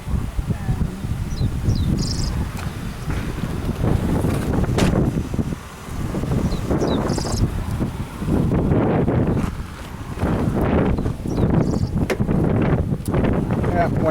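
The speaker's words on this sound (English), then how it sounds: "wind's picking up" Strong gusting wind during stormy weather roars as broad low rumbling buffets against the microphone, swelling and easing in waves with brief lulls, while a person speaks intermittently close by.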